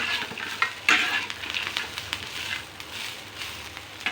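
Plenty of peanuts fry in hot oil for a spicy green chilli kharda, with a steady close sizzle and scattered sharp pops and stirring scrapes.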